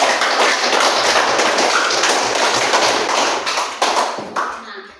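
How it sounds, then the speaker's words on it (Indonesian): Classroom applause from a group of students, dense continuous clapping at moderate volume that thins out and stops near the end. "Kita akan memberikan aplaus kepada masing-masing"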